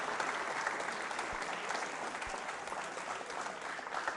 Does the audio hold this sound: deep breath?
no